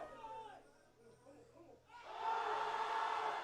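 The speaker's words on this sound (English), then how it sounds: "Crowd's getting into this one." A powerlifting meet crowd swells into loud cheering and shouting during a lifter's final squat. Faint speech comes first, then the roar builds and holds.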